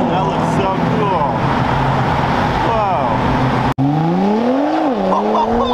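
A Nissan GT-R accelerates at an outdoor car meet, its engine note climbing loud and close, then rising again in a sweeping pitch as it pulls away, with crowd chatter underneath.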